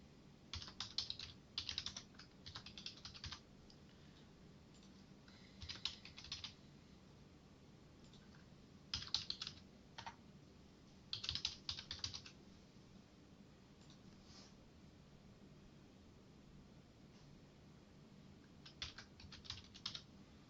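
Answers are typed on a computer keyboard in short quiet bursts of rapid key clicks, separated by pauses of near silence.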